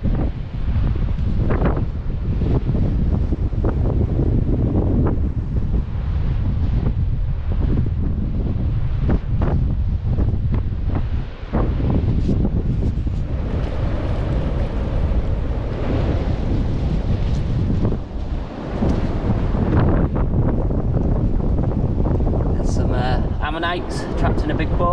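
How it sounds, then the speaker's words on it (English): Strong wind on the beach at Aldbrough buffets the microphone in a loud, continuous roar that rumbles through the whole stretch, with a voice talking underneath it. "It's very windy, so I apologise about the noise."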